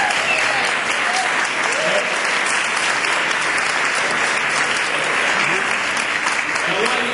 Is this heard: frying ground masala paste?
no